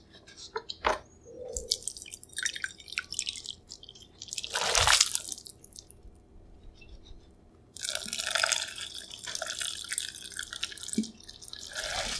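Cup yukgaejang ramen is poured into a bowl close to the mic, with wet dripping, slurping splashes and sloshing liquid in bursts, plus soft handling noises in between.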